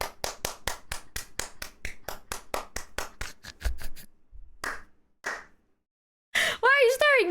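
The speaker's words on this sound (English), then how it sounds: "Wait, what if I clap?" A person's hand claps ring out close and sharp in a fast, steady run of about twenty, then slow to a few scattered claps before stopping; a voice speaks briefly afterward.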